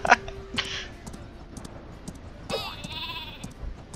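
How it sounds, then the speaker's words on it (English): A cartoonish sheep in the video game Worms W.M.D. gives a short bleat amid game effects and clicks, with a second wavering bleat later, fairly close and clear. "It's a sheep."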